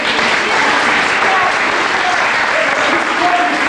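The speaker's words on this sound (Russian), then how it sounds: "Похлопаем" Audience applause at a stage benefit concert: steady, dense clapping from a large crowd, loud and continuous throughout.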